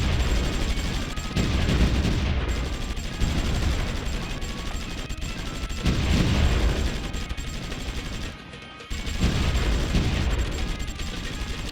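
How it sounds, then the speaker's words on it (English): Distant gunfire in the war strategy game Supreme Ruler Ultimate, set in the Great War: a continuous rattle of small-arms and machine-gun fire, swelling into heavier volleys at times, with a brief lull near the end before the shooting resumes. "Where am I hearing this gunfire coming from?"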